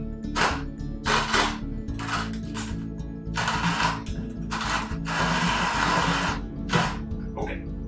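An electric coffee grinder grinds coffee beans for Moka pot espresso, giving loud, close whirring bursts in an irregular series of short and longer runs over a steady low mechanical hum.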